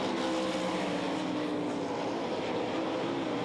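Sprint cars roar through a heat race at the Knoxville Nationals dirt track, a dense, continuous engine drone from the pack holding steady and loud throughout.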